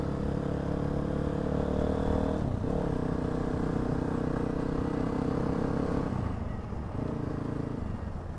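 A motorbike is ridden along a road, its engine a steady close drone with shifts in pitch as it eases off and picks up speed, alone without voices.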